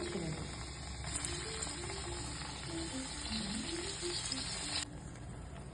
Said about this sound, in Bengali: বন্ধুরা, তেলটা গরম হয়ে গেছে। এবার আমি আস্তে আস্তে চিকেনগুলো ছেড়ে দেবো।